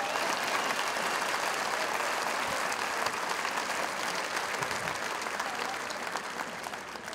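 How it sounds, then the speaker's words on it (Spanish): An audience at a spiritual retreat applauding, dense sustained clapping from many hands that carries on steadily and tapers slightly near the end. "Aplaudan pues."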